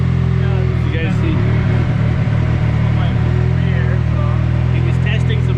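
A car engine revs during tire testing, a loud, steady rumble with slight surges, heard close by beneath ongoing talk.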